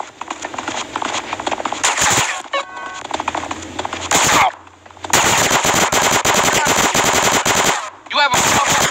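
Dense bursts of automatic machine gun fire in Grand Theft Auto: San Andreas rattle loudly in long volleys, broken by short pauses, with a brief voice and game sounds between bursts.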